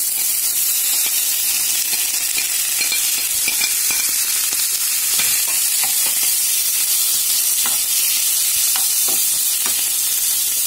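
Beans and potatoes sizzle and fry steadily in an oil pan with garlic and turmeric, a constant loud crackling hiss broken by stirring clinks, with no talk.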